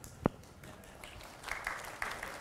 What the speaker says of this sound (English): I want you guys to start applauding very softly